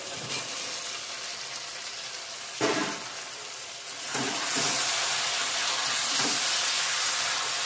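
Soaked potatoes are tipped into hot oil in a pan at home, raising a loud, bright sizzle that jumps up with a splash and then settles into a steady, intense hiss.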